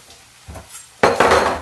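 A metal sheet pan clatters and scrapes as it is picked up and set down in a kitchen, two quick bright clanks following a softer knock.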